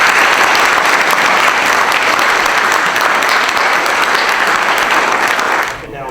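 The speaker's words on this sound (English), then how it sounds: "show your appreciation just by a round of applause" A hall audience at a Mental Health Awareness Week event gives a loud, sustained round of applause, dense and even for nearly six seconds before dropping away at the end.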